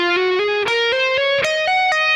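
Electric guitar lick that blends legato and hybrid picking, two parts joined into one run. Clean, bright single notes climb step by step in a quick, even rhythm, sounding close and alone with no talking.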